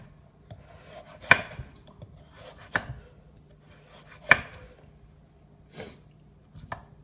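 A knife cuts horizontally through a squash into rings, giving several sharp, separate chops against a board, spaced unevenly and close by, with quiet pauses between strokes and no talking.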